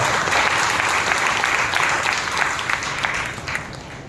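A church congregation claps loudly during a Sunday worship service in Nellore, with dense, sustained applause that runs steadily throughout and fades slightly near the end.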